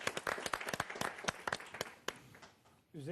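Studio audience applauding on a Turkish television talk program, a burst of scattered hand claps lasting a few seconds, then trailing off into near silence before a voice enters at the end.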